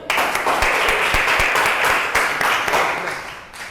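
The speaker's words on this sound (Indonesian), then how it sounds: "sudah tepuk tangan dulu" Applause from a school classroom during a Mandarin language lesson: dense, steady clapping from many hands, fairly close and loud, tapering off near the end with a few stronger individual claps standing out.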